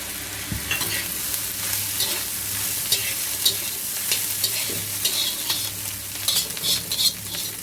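Nasi goreng fried rice stir-fried in a pan with a splash of salty soy sauce, giving a steady hiss of sizzling with repeated scraping and tossing of the spatula throughout.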